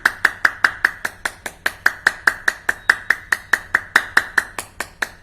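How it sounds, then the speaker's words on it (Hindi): A group claps loudly and in steady unison during a yoga session, about two dozen sharp, evenly spaced claps with no talking. "ताली जोरों से बजाएंगे"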